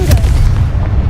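A Confringo explosion spell blasts in Hogwarts Legacy gameplay, a single loud, deep boom with a sustained low rumble filling the short moment.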